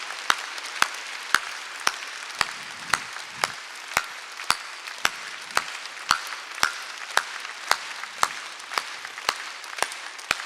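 A church congregation at a Sunday worship service claps in a slow, regular rhythm, sharp hand claps spaced about half a second apart throughout, with faint murmurs underneath.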